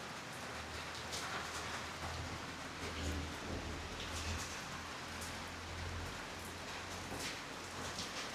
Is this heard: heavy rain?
yes